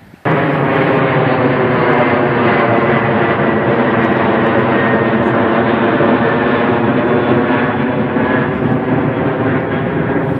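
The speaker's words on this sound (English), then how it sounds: "the jets tend to come in down our valley towards the airport" A jet airliner coming down a valley on approach to Kelowna airport gives a loud, steady, broad roar that holds for ten seconds, close and overwhelming, with no talking.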